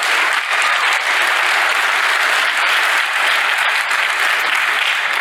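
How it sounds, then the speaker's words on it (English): An audience at a Black Hat USA conference session applauds and cheers for the NOC team, dense continuous clapping filling the room at steady loudness from start to finish. "Cheer for them more than what us."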